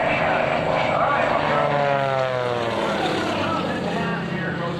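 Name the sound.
propeller airplane flying aerobatics at air show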